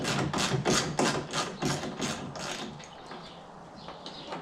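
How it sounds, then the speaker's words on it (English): Screws being removed from a Ford F-150 tailgate, a quick series of close ratcheting clicks with a steady rhythm that slows and fades into quieter fiddling, no voices. "take these two screws off"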